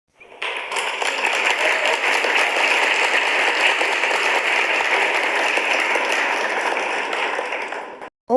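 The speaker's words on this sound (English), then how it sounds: "Let's clap for her again" The audience claps again for Dr. Ngozi at a public gathering, a thick, continuous wash of many hands at constant loudness that begins suddenly and runs unbroken for nearly eight seconds before cutting off.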